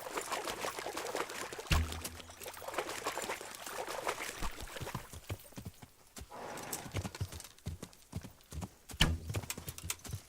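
Horse hooves clip-clopping in the medieval game Kingdom Come: Deliverance, with a steady rhythmic gait at close range, occasional whinnies and a few sharper thumps, with no talk over it.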